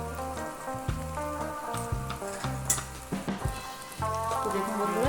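Potato filling fries in a pan for alur kobiraji pokoda, giving a continuous, close sizzle with crackling spits and occasional stirring scrapes throughout.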